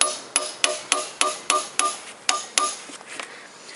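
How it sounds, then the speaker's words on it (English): Repeated hammer strikes on metal while taking apart the crankshaft and bearings of a GM Ecotec engine, about nine sharp, ringing blows at an uneven pace of roughly one every third of a second, close by and clear, with no talking. "I go in this other side to hammer."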